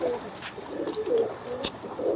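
Pigeons coo repeatedly in soft, low, rounded phrases, several overlapping calls close by with a faint higher chirp now and then.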